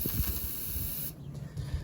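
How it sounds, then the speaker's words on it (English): Fogging oil is sprayed from an aerosol can into an engine cylinder through the spark plug hole of stored shed equipment. The spray makes a steady, close hiss that cuts off just past the midpoint, leaving quieter background noise. "I'm just going to spray fogging oil through the hole where the spark plug goes and directly into the"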